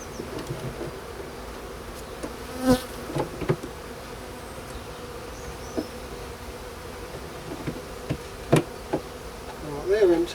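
Honey bees buzz steadily during an early spring hive inspection, a close continuous drone with occasional knocks and clunks of frames being handled.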